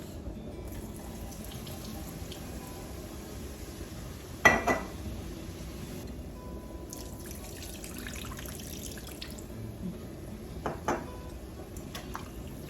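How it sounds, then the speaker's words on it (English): Broth is poured into a butter and flour roux in a pan, a faint liquid trickle and sizzle with a brief clatter and soft splashes, quiet against low kitchen background. "We're going to add a little bit of our broth."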